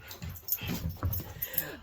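Dogs whimpering and whining indoors, faint and close, with soft yips and snuffling over a low room hum.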